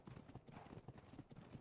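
Horse hooves clip-clopping in the video game Ark Survival Evolved, a quick steady trotting rhythm, fairly faint and continuous with no talk.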